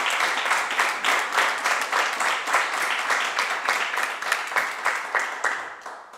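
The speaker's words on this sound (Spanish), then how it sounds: "Denle un aplauso al Señor," A church congregation claps together in a steady, sustained round of applause, dense and lively, fading slightly at the end.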